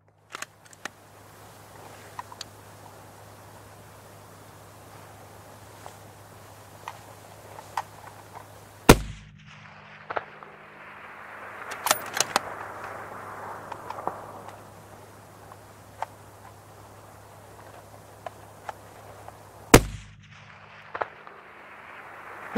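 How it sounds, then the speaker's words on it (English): Rifle shots fired at a long-range shooting match stage at 1025 meters, a few isolated sharp cracks several seconds apart, loud against a quiet outdoor hum, with no talk. "You can shoot as many rounds as possible in the 45 seconds."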